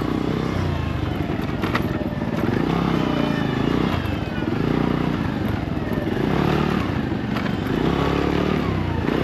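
A motorcycle engine runs steadily and close by throughout, with a continuous rumble, slight revving and some rattling clatter, on a ride out to check a plot of land.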